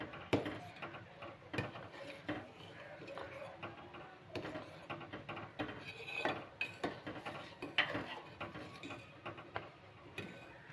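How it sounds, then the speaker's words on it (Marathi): Spoon stirring dahi kadhi thickened with chickpea flour in a pot, repeated soft metallic clinks and scrapes against the pot in an irregular rhythm, fairly faint and close. "बघा हलवत राहायचं असं"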